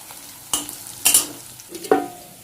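Bitter gourd slices fry in a pan with a soft, low sizzle, broken by a few sharp clatters and scrapes of a spatula and a metallic clink near the end.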